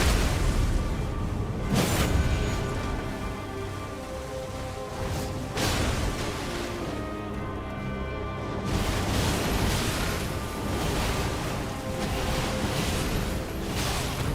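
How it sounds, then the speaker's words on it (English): Malenia boss fight in the video game Elden Ring: a dense, continuous barrage of booming explosions and whooshing bursts, loud and layered, with several sharper blasts cutting through the roar. "there's an extra explosion at the end."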